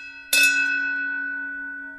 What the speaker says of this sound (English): You just had to ring the bell.